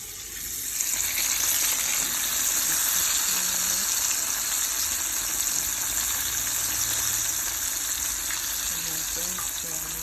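Jamaican fries and chicken frying in hot oil, a steady loud sizzle and hiss that holds evenly, with faint stirring and clatter underneath.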